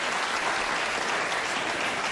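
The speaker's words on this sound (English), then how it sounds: "Applaud. People who have seen me before." A television studio audience at a 1983 late-night talk show breaks into loud, sustained applause that fills the whole stretch, dense and even with no talk on top.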